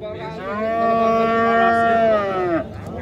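A dairy cow at a livestock market in Muzrabot, Surxondaryo gives one long, loud, close moo that holds for over two seconds before breaking off.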